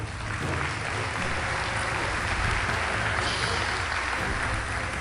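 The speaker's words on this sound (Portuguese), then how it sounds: "uma salva de palmas para a Uningá" Dense, steady audience applause fills a lecture hall during a university-hosted talk, loud and continuous for about five seconds with no pause.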